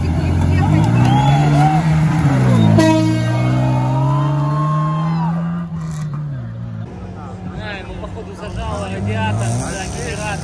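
UAZ off-road vehicle pulling away during an off-road sprint race, its engine straining and revving loudly with pitch sweeping up and down, while spectators' voices and shouting carry over the machine noise.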